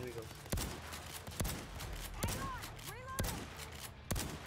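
Gunfire in the video game OVERKILL's The Walking Dead, a series of sharp single shots spaced about a second apart over low background game noise, with a voice speaking between the shots.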